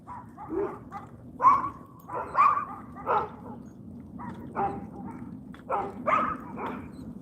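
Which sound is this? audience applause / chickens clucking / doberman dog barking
doberman dog barking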